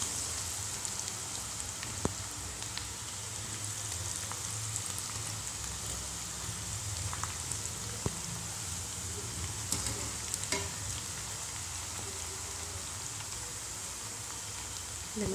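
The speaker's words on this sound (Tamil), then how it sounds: "இப்போ எண்ணெய் காஞ்சிருச்சு. இப்போ நம்ம மாவு எடுத்து இப்படி கையில் எடுத்து இப்படி உதுத்து விடுற மாதிரி உதுத்து விடணும்" Crumbled ragi pakoda dough fries in hot oil with a continuous, moderately quiet crackling sizzle. Faint pops and small clicks are scattered through the frying.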